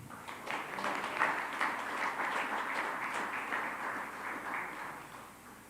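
Audience applause at a county school board meeting honoring Miami High School athletes, faint steady clapping from a modest crowd, continuous and without speech.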